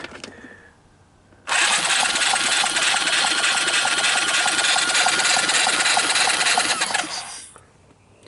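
A salvaged Suzuki LT160 ATV engine on a jump pack cranks and catches, then runs at a loud, steady, buzzing idle for about six seconds before shutting off. It is close up, with no talking.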